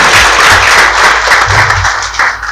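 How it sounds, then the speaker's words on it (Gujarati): Sustained applause from an audience at a community gathering, as relatives are welcomed, a dense steady wash of many hands clapping that swells and eases slightly over a couple of seconds. "એમને જોરદાર તાળીથી વધારે"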